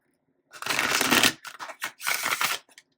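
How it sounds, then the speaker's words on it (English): Tarot cards shuffled by hand in two quick bursts, a dense papery riffle with a short gap between, close and fairly loud, then a couple of faint taps. "I'm going to give this one more shuffle"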